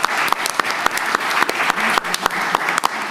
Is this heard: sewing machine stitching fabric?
no